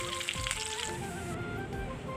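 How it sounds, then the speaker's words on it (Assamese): Panch phoron and dried chillies sizzle steadily in hot mustard oil left over from frying fish, a loud, continuous crackle with no talking. "মই মাছ ভাজা তেলতে ইয়াতে পাঁচফোৰণ আৰু শুকান জ্বলা মই দি দিছোঁ"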